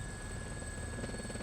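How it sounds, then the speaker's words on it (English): Helicopter flying in the video game Persona 4 Arena Ultimax, a faint, steady rotor whir and buzz with a thin high whine, brief and continuous without talk. "When did a helicopter fly to Gekkoukan?"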